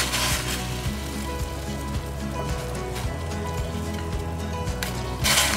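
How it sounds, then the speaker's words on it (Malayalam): A pot of water at a full rolling boil with ginger added for a spiced drink, heard as a steady, dense bubbling and hissing close by that continues without a break. "വെള്ളം നന്നായിട്ട് തിളച്ചിട്ടുണ്ട്."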